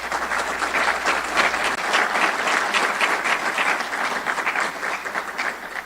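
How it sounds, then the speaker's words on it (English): Sustained applause from an audience at a police academy graduation ceremony, steady and dense clapping throughout without talk. "And you can give them applause at this time."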